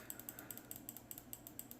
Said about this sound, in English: So much clicking.